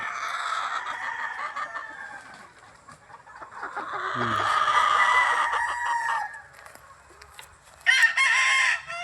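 Young five-month-old gamefowl roosters at a farm in Tagaytay crow in overlapping bursts, several birds calling one after another with clucking between, fairly close and loud, a final sharp crow near the end.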